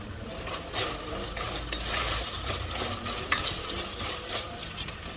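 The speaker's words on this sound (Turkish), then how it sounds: "Bırakmış olduğu suyunu tamamen çekene kadar kavurmaya devam edelim." Steady, close sizzling of meat for tas kebab sautéing in a pan until its juices cook off, with stirring scrapes and an occasional utensil clink throughout.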